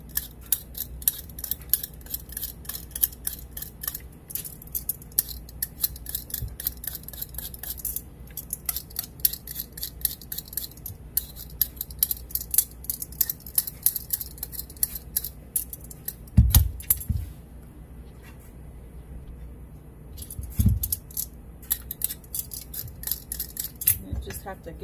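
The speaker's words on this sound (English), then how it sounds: "And you just peel all your sweet potatoes." A potato peeler scrapes sweet potatoes in quick, close, repeated rasping strokes, with a couple of short pauses and a few knocks partway through.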